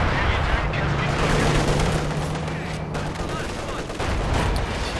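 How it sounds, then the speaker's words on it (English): Artillery base barrage in Company of Heroes 2, heard as a dense, continuous roll of distant blasts and rumbling gunfire across a busy battlefield, with a low steady hum running underneath. "Base barrage again."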